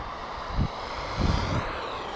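Small electric motor of a Tamiya TT-02 rally-spec RC car on a dirt surface whines steadily at a distance, rising in a couple of short surges as the car accelerates.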